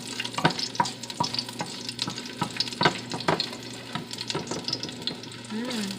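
Garlic hitting a hot pan while shrimp and broccoli cook, giving a continuous sizzle broken by sharp clicks and scrapes of stirring utensils, fairly close and moderately loud.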